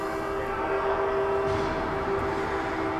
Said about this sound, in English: the old foghorn going off